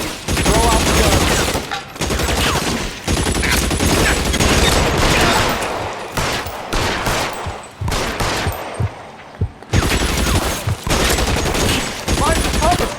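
Bursts of gunfire in the crime game L.A. Noire: loud, repeated volleys and rapid shots come in clusters separated by short pauses, with voices calling out between them.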